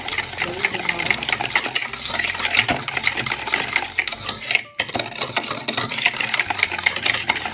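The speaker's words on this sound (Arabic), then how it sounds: "أحط معلقة الخل الصغيرة وهصغرها في الخل كده، بقلبهم مع بعض." Small spoon stirring a vinegar mixture in a bowl for a strawberry jelly cake batter, a steady scraping clatter running throughout at close range with one brief pause near the middle.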